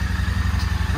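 A motorcycle engine idles roughly during a cold start, a close, steady low rumble with a pulsing, uneven beat for about a second.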